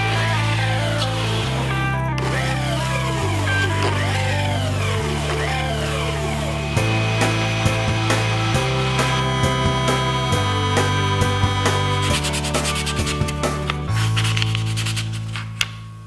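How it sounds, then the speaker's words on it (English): An 80-grit belt sander grinds against a wooden Mercedes-Benz gear shift knob in a continuous loud whine, its pitch stepping up and down as pressure shifts, with no voices. "I started out with 80 grit on the belt sander here, also 80 grit on the disc sander"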